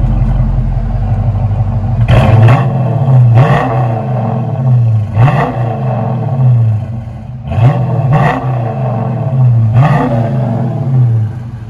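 A Dodge Charger with a 5.7L HEMI V8 and Flowmaster exhaust idles with a deep burble, then gets revved sharply about five times in pairs, each rev rising loudly and falling back, close and without talking.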